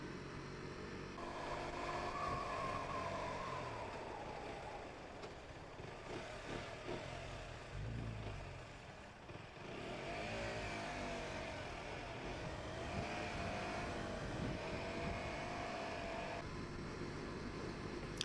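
125cc motorbike ridden through Sunday town traffic around Boston, its small engine droning and rising as it accelerates, with wind and passing car noise throughout and no speech.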